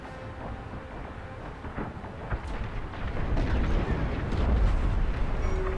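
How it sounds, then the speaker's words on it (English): A frigate explodes in the space combat game Star Wars Squadrons, a low, rumbling blast that swells and grows louder toward the end, heavy and sustained rather than a single sharp crack. "The frigate is about to explode."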